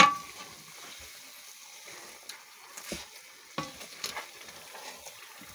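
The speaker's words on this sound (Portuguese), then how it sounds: "Tem que sovar bastante ainda para ficar bem macio, bem macio." Requeijão, a Brazilian cream cheese, being kneaded by hand in a pan, giving soft sticky squelches and scattered muffled thumps and scrapes, close and fairly quiet with no talking.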